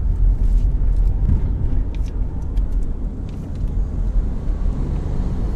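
Car driving along a country road, a loud continuous rumble of engine and tire noise from inside the vehicle with small bumps and rattles, no talk.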